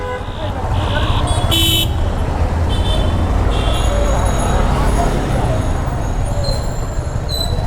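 Busy road traffic roars at Barek Mollar Mor junction in Dhaka, a loud continuous rumble of engines with several short horn toots and higher beeps cutting through, and voices talking nearby.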